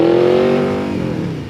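Close, loud engine revs from a 200 hp Yamaha VMAX 1700 Gen 2 cruiser motorcycle, a strong steady roar holding briefly and then easing off as the revs fall.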